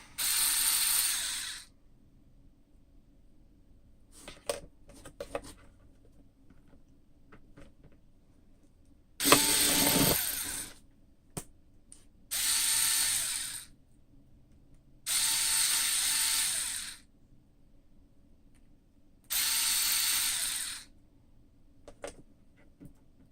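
Five bursts of a power drill whirring, each lasting about two seconds, separated by short pauses with faint clicks and handling noises.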